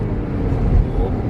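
A Volkswagen Polo TSI hatchback engine pulls hard in second gear near 6500 RPM, a dense, loud low roar with road rumble heard from inside the car.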